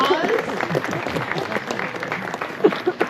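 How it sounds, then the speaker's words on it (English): Outdoor audience at a Denali National Park sled dog demonstration giving a round of applause, a steady patter of many hands clapping with a voice talking over it near the end. "give our sled dogs, our kennel strangers, and our special guest volunteers a round of applause"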